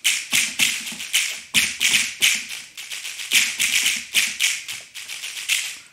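Crisp finger snaps from the Le Snappet finger snap machine plugin, played in a steady rhythmic pattern of close, dry snaps, mostly in pairs and groups, with no talking.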